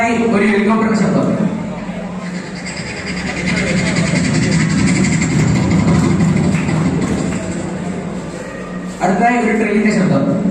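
A school arts festival mimicry performer imitates a helicopter with the voice, a loud continuous throbbing drone held for several seconds, dipping slightly before a sharp vocal burst near the end.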